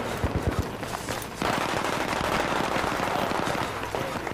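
Rapid machine gun fire rattles in Battlefield 3 multiplayer, sustained bursts of close, loud shots layered with more distant gunfire in a continuous firefight.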